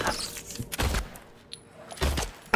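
Gunfire in the video game Silent Hill 2, with several loud, heavy gunshot bursts spaced a second or so apart, each followed by a brief rumbling tail, over a quiet, tense background.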